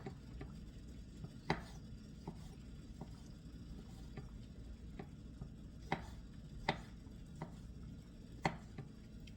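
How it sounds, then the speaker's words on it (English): A big knife chops pitted green olives finely on a cutting board, giving sparse, irregular sharp taps over a low steady background hum. "I'm slicing them down with the big knife and I'm going to chop them up really fine."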